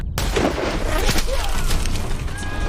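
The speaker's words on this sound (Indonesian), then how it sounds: "salah satu sniper musuh berhasil menembak tim yang berada di menara" A sniper rifle shot cracks loudly at the start of a tense film scene in which an enemy sniper hits a team in a tower, followed by a dense, booming wash of gunfire and rumble with no break.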